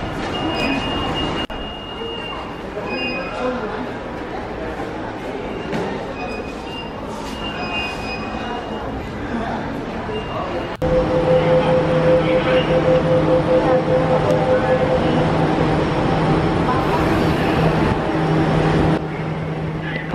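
A Jakarta MRT train moves through a station with a steady low rumble that grows louder partway through, joined by a high whining tone and faint beeps, with background voices.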